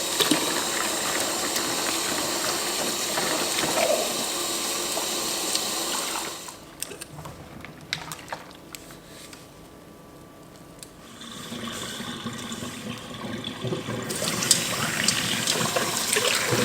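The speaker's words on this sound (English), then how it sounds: "it's the perfect time to wash up any of the mixing bowls and things that you've used" Running tap water splashes over mixing bowls being washed up in a kitchen sink, a steady gush that drops away for a few seconds mid-clip before the flow returns, close and fairly loud with no talking.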